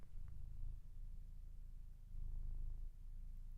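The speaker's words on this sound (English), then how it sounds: "she's purring" A pet cat purrs softly and close by, a low continuous rumble with gentle rises and falls, faint and alone.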